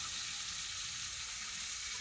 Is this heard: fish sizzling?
yes